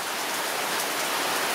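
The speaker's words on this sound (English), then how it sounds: "because it's raining, you're not going to get the sunset today" Heavy evening rain pours down in Negril, Jamaica, a dense, steady hiss with no break.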